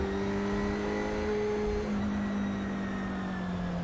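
Dallara F3 race car in iRacing held at full throttle down a long straight, its engine a loud, steady high-pitched drone with a brief pitch shift partway through as a gear changes, then settling again.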